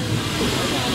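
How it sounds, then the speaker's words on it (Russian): A steam locomotive on a steam-hauled excursion near Moscow gives a steady, broad hiss of escaping steam over a low rumble, loud and continuous throughout. "Один паровоз едет, второй разворачивает."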